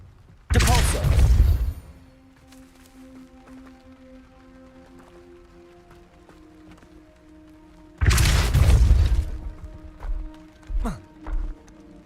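A Depulso spell is cast in Hogwarts Legacy, giving a sharp, loud burst of blasting force, then a quieter stretch with faint ambient hum before a second equally strong burst and a few trailing thuds.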